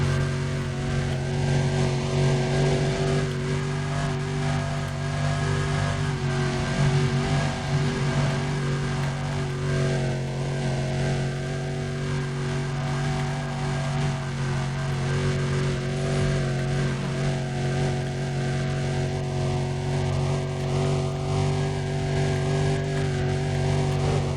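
Car engine in Need for Speed: Undercover, a continuous droning roar with rising and falling pitch as the car accelerates through a sprint race, steady and loud throughout.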